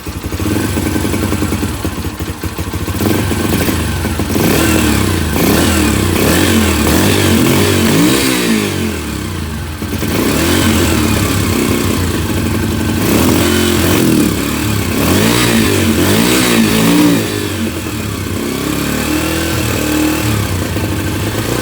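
A Yamaha TTR 125 motorcycle engine with a poorly adjusted idle, getting too much air, runs loud and close, revving up in repeated bursts that sag and nearly die out between them, with no talking.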